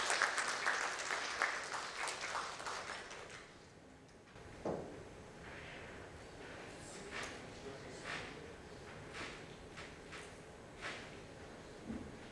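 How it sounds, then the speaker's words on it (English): Conference audience at a CSR summit applauding to welcome a speaker on stage, a dense burst of clapping that thins out after a few seconds into scattered claps, with some stray knocks and rustle. "can we have a huge round of applause to welcome him on stage?"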